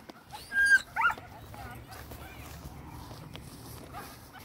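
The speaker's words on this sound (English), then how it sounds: "Doggies over there." A dog, a Border Collie among others, gives a couple of short, close yips and whimpers near the start, followed by fainter scattered barks over footsteps, with someone speaking nearby.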